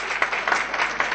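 A short burst of audience clapping at an astrology gathering greets an introduced guest, a modest crowd's hand claps pulsing briefly and evenly.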